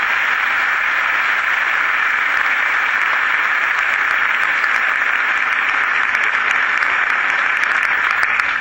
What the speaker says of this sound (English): Let's give the state workers a round of applause for their great work.